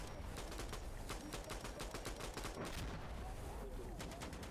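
Mortar and gunfire crackle through a Call of Duty Black Ops match, dense rapid bursts of shots and blasts over a noisy, busy game soundscape.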